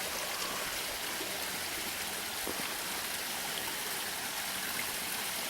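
A small brook flowing steadily over stones, a constant soft broadband rush and trickle outdoors, fairly faint and unbroken, with no voices.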